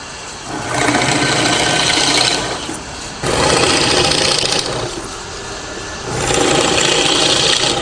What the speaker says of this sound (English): I'm just going to use this plug cutter, which fits the holes that we drilled in the frame, and make some plugs to plug them up with